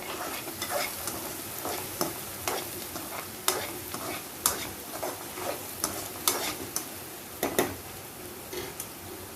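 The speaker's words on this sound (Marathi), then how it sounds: "शाही गरम मसाला, सुहाना बिर्याणी मसाला परतून घेऊ आता आपण थोडं." Garam masala and biryani masala sautéing in a pan, a continuous sizzle broken by repeated sharp scrapes and taps of a spoon stirring against the metal, close and rhythmic.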